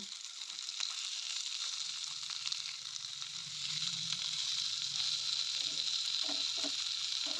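Sating fish with fried coriander leaves sizzles quietly in a pan, a soft steady hiss broken by a few light stirring scrapes near the end.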